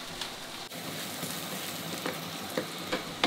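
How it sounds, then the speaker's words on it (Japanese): Onions stir-frying over a strong medium flame in an iron frying pan, giving a steady close sizzle with occasional light scrapes and stirs. "強めの中火ぐらいで玉ねぎから水分を飛ばす感じで炒めていきます。"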